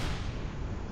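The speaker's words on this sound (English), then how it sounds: "these are the missile launchers" Missile launchers fire in the Empyrion space game, a loud, dense, roaring blast of noise that fills the whole second without a break and drowns out everything else.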